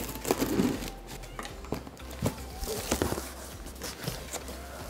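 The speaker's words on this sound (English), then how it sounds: "So first things first, let's cut open this box." Cardboard box for a Ninja Foodi Smart XL grill being cut open: close rustling, scraping and crinkling with scattered taps and thumps, fairly quiet, with a little voice underneath.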